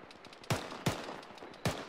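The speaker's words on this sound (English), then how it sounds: "Suppressive fire." Three sharp, separate gunshots crack out during an army training exercise, spaced unevenly over about two seconds against faint background noise.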